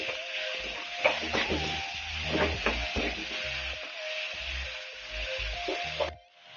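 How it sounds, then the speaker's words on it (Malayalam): Onions and green chillies sauté in a hot pan with a steady bright sizzle, broken by scraping stirs of a spatula at an irregular rhythm, close and continuous, with no talking. "സവാള നന്നായി വഴറ്റി വന്നിട്ടുണ്ട്."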